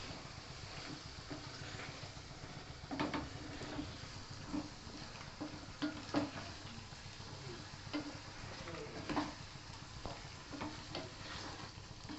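Meat cooks in hot spiced oil in a pan, giving a quiet, continuous sizzle with intermittent scraping and stirring knocks, all fairly faint.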